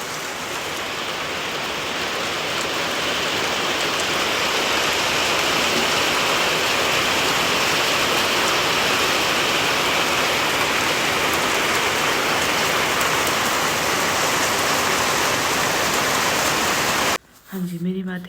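Heavy rain pours down on a sunny day at home, a dense, loud, unbroken hiss that lasts until it cuts off abruptly near the end.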